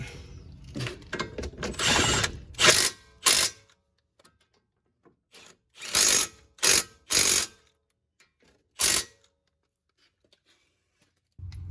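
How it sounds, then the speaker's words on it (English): An impact gun tightens the wheel bearing bolts on a 2010 Camaro 3.6. It fires in several loud, close, rattling bursts of varying length, separated by silent pauses. "just as long as you tighten it tight. And I'll use the impact gun for that."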